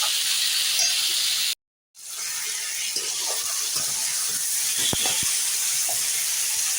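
Lentil fritters (dal bora) fry in hot oil with a continuous bright sizzling hiss, broken once by a short dropout, then resuming with scattered small pops and crackles and no voices.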